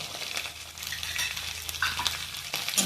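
Ground cumin and chilli powder frying in hot oil in a pan, a loud, steady sizzle with bursts of stirring and scraping close up, no voices.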